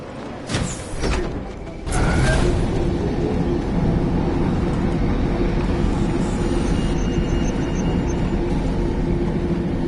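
A train in a PS4 video game rumbles heavily and continuously after a couple of sharp metallic clanks at the start, the low roar holding steady and loud to the end.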